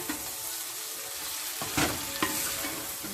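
Dried bombili fish being stirred with spices in a pot, a gentle sizzle beneath scraping utensil strokes that grow sharper toward the end, close and unaccompanied by talk.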